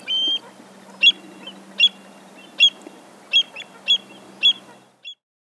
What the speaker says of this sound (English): Listen to the call of the American avocets.